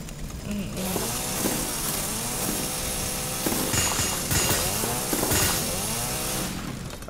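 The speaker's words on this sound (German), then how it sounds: "Eine mittelgroße Kettensäge für die Holzverarbeitung." Medium-sized old woodworking chainsaw running in the video game Resident Evil 7, a steady buzzing engine drone with a few rising revs, loud and continuous throughout.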